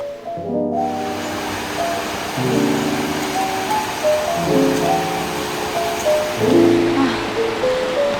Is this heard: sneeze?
no